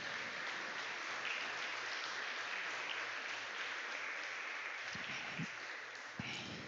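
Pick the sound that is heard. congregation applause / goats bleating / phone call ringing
congregation applause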